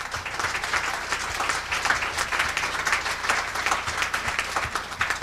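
A church congregation applauds steadily for several seconds, a dense, even wash of many hands clapping at moderate distance, with a low hum underneath and no speech.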